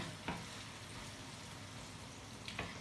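Kokoreç, chopped lamb intestines, sizzles and fries in a pan in a home kitchen, a steady hissing crackle with a couple of soft stirring scrapes.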